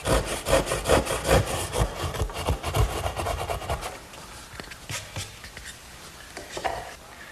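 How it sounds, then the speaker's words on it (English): A 10-point crosscut hand saw cuts wood at the corners of a Shaker step stool, making rhythmic rasping strokes about twice a second, close and moderately loud, that grow quieter and more irregular toward the end. "my 10-point crosscut saw does a good job finishing up the corners"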